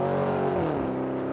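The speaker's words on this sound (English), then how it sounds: "I love the Porsche sound, the engine." A Porsche race car engine drones loudly and steadily at a rallycross event, its pitch sliding down as the car passes, with no voices.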